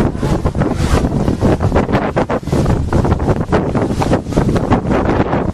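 Wind blowing at an outdoor street fair in spring, steady loud buffeting gusts rumbling against the microphone and filling the whole stretch, with no talk.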